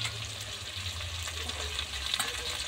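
Crab pieces fry in hot oil for a crab curry, giving a steady close sizzle and crackle with a faint low hum underneath.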